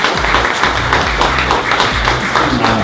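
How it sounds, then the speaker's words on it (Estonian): Crowd applause for junior orienteers at a winter orienteering award ceremony, a steady dense wash of clapping throughout the short span, fairly loud and continuous with no talk over it. "Junior 18 klassi esindajad ja kõva aplaus"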